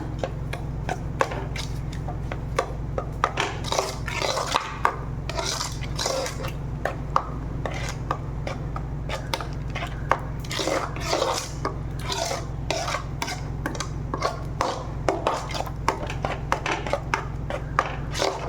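Sugar being stirred into mango kheer in a cooking pot: a steady scraping, rasping stir with a light clatter of spoon against metal, continuous and close, with no talking.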